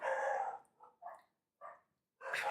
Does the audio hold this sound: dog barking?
yes